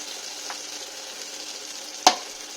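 Rohu fish frying with spices in a pan gives a steady, soft sizzle throughout, broken by one brief sharp clatter near the end.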